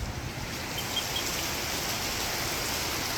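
Steady rain falls outdoors in Puerto Rico, a continuous even hiss with no distinct drops or voices.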